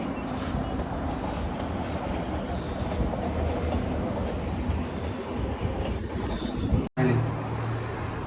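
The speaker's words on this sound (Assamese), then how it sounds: "এইখন ট্ৰেইন আছে চব" A passing train rumbles steadily and loudly throughout, with a low rolling drone and faint clatter, briefly interrupted by a sharp dropout near the end before the rumble resumes.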